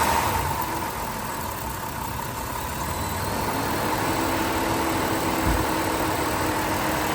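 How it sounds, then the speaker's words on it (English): Car engine idling steadily with the radiator cooling fan running, a continuous close, even whir and hum with no talking. "We can hear the cooling fan on"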